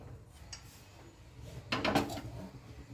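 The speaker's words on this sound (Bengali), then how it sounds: "এবার কড়াই বসিয়ে দিলাম।" A wok, or kadai, set down on the stove: one short metallic clatter of the pan landing on the burner about two seconds in, close and fairly loud over a quiet kitchen background, with no speech.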